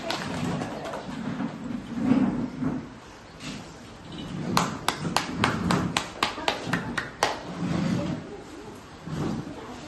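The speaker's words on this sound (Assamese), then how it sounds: "চবে হাত তালি বজাব" People at a day-care centre and old-age home function clap their hands in a short burst of sharp, separate claps partway through. Quieter crowd murmur runs before and after.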